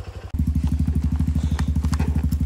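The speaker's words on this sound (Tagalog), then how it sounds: "napaandar na namin ang motor ni Habibi Rides" A trail motorcycle engine catches and settles into a loud, steady idle with an even, rapid thumping pulse, close by.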